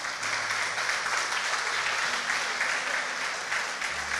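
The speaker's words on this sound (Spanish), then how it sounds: "Denle un fuerte aplauso." Steady, full applause from a church congregation during a sermon in Bolivia, continuous clapping throughout with no pauses.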